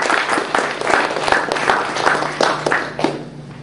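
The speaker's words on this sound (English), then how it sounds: "So I would like to everybody to actually give a round of applause" Steady applause from a crowd at a Drupal user group meetup, dense clapping that carries on throughout without pause.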